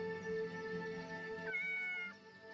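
Dusty the cat from the game Yes, Your Grace gives a drawn-out, tonal meow that rises and shifts in pitch across a couple of seconds, clear and close with no talking.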